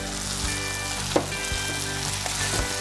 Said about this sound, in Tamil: இப்போது வெங்காயம் தக்காளி எந்த அளவுக்கு வதங்கியிருக்குன்னு பார்க்கலாம்